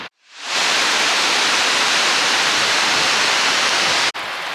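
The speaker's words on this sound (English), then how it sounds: "we've now come to Foss waterfall" Foss waterfall in Iceland roaring as a steady, loud, broadband rush of falling water and spray, close by and continuous, with a brief dropout near the end.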